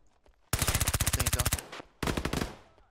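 Automatic weapon fire in the tactical shooter game Ground Branch: a loud rapid burst of about a dozen shots, a short pause, then a second shorter burst, close and sharp.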